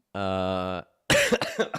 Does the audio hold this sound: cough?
yes